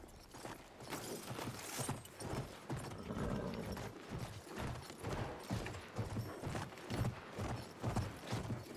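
Horse hooves gallop in the first-person shooter Battlefield 1, a steady fast clip-clop drumming underneath busy battlefield noise with no voices.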